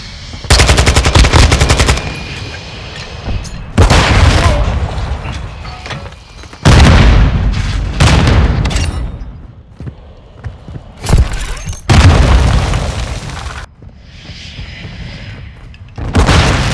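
Cruise missile strikes in Call of Duty Modern Warfare 2, a string of loud, booming explosions and blasts with rumbling tails, separated by brief quieter gaps, close and dominant throughout.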